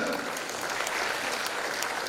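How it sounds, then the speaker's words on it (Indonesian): Congregation applauding during a New Year's Eve year-end church service, a steady wash of many hands clapping at moderate volume that fills the whole moment without talk. "Tepuk tangan terbaik."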